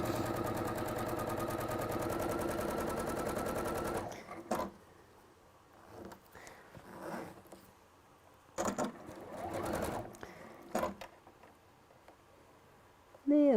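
A domestic sewing machine stitches fabric in a steady, fast run for about four seconds, then stops; afterward only scattered handling clicks, rustles and brief bursts of speech are heard.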